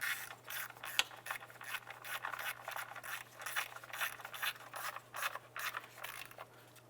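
A ratchet snugs down spark plugs on a 2001-2005 Honda Civic, giving steady rapid clicking strokes up close in a continuous rhythmic series, with no speech.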